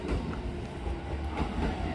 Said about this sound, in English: I can hear a train coming